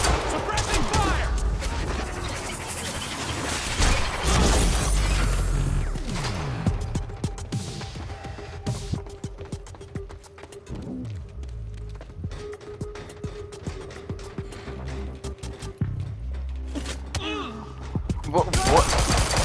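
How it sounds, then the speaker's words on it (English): Suppressing gunfire in the video game Quantum Break, dense bursts of automatic fire and impacts rattling steadily through the stretch, loud and close, with a player talking over parts of it. "Suppressing fire."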